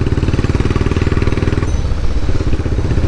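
A Royal Enfield Bullet Classic 500 motorcycle engine thumps loudly and close up with a steady, rapid pulsing beat that shifts slightly partway through.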